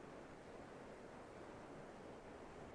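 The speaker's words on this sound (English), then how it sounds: "The river is raging." Crystal Creek, a raging Colorado mountain creek, rushes in a loud, dense, unbroken roar of whitewater, steady throughout with no voices.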